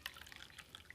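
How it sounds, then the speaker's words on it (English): Small trickle and drips of water poured into a cup of green tea, faint and close, a brief run of light splashes with no talking. "I'm going to add the rest of the green tea to it, and I'll add water to it"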